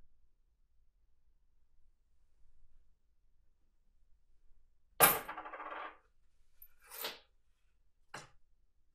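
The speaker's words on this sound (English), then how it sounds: "Put some money in the bank and then close it" Coins drop into a money bank with a sharp metallic clatter, followed by two shorter clinks, close and otherwise quiet.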